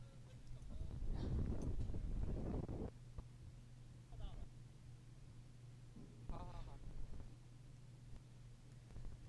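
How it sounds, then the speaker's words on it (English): Strong wind gusts at an airfield in Zhuhai, where the AG600 amphibious aircraft waits to fly, cause a heavy rumbling buffet against the microphone for a few seconds, then weaker puffs, under a person talking. "right now the wind is becoming stronger even"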